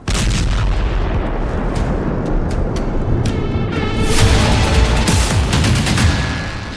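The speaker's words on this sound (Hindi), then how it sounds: "यह धमाका उसी हादसे का बताया गया है।" Loud, continuous roar of a massive explosion from a private jet crash at night, with rumbling booms and crackling bursts sustained throughout, swelling slightly near the end.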